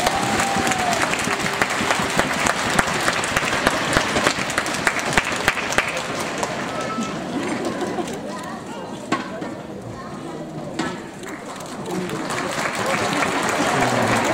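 Crowd applause at a Kumamon birthday festival after a governor's address, with loud, dense, sustained clapping that thins out toward the end while voices carry on underneath.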